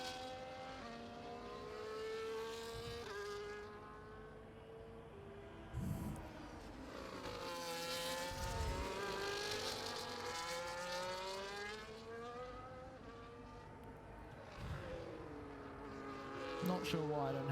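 A race car engine in a racing video game screams through a qualifying lap in Qatar, revs climbing and dropping through gear changes with sharp downshift blips, steady and prominent under a faint commentator's voice.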